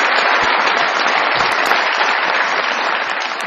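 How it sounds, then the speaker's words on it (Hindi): Loud, dense applause from a comedy show audience in a Pakistani studio, continuous and close, with a few sharper claps and whistles standing out over the roar. "बहुत सारी तालियां।"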